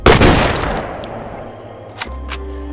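Gunshots ring out on a shooting range, a loud dense volley in the opening moment that decays into reverberant rumble, followed by a couple of sharper, lighter cracks later on.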